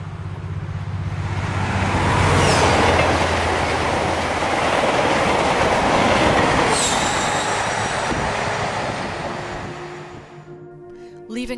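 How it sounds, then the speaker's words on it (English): Train powering away at speed, a loud rushing roar with high squealing tones that builds, holds, then fades into the distance over about ten seconds. "And now the Maglev is gone, powering away towards the future of transport."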